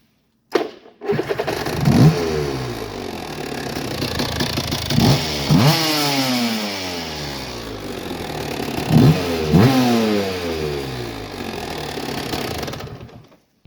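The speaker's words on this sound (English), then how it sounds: "So let's put the carburetor back and let's try it." An Aprilia 125 motorcycle with a Rotax 122 two-stroke engine, fitted with a V-Force 3 reed valve, starts up and is revved hard several times close by, each rev rising sharply and falling back to a buzzing idle.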